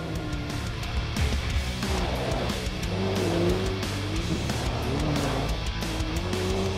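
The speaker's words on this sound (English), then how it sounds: "The X3's 900cc turbocharged and intercooled engine is referred to as the ACE and produces 154 horsepower" A Can-Am Maverick X3 side-by-side with a 900cc turbocharged, intercooled engine drives along, its motor droning and rising and falling in pitch, steady and moderately loud with tire and ground noise underneath.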